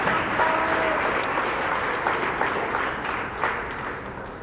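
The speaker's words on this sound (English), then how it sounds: "let's give a round of applause one more time to our water polo signees" Steady applause from an audience at a De La Salle signing day ceremony for water polo signees, dense clapping that fills the room and slowly tapers off toward the end.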